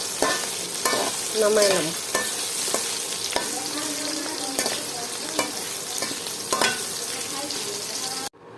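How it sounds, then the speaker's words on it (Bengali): Potatoes and onions fry together in a pan, sizzling steadily while a utensil scrapes and stirs in repeated strokes. A voice speaks briefly, and the frying cuts off abruptly just before the end. "পেঁয়াজ আর আলু একসাথে ভাজিয়ে"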